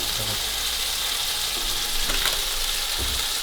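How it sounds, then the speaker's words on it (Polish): Steady, loud sizzling of chicken frying in butter in a hot pan, a constant crackling hiss with faint clicks and low rumbles underneath. "No to kurczak się robi i się pali."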